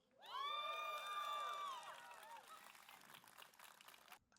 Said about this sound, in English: I don't know if they encouraged the audience to clap